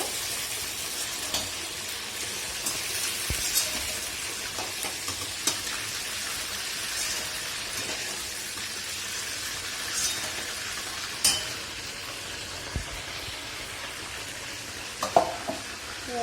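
Fish frying in hot oil gives a steady broadband sizzle, with occasional light clinks and stirring knocks from the pan, close and with no speech.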